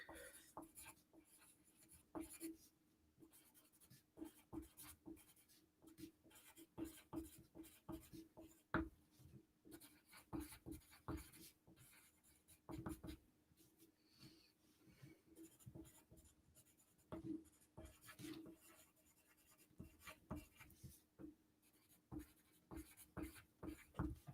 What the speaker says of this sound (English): to write some stuff down quick